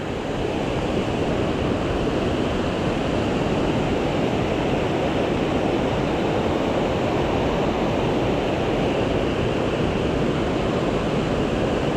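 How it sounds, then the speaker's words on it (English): A set of river rapids rushes in a steady, dense roar of churning water beside a trail in New York, constant and fairly loud throughout with no voices. "That's a good set of rapids there."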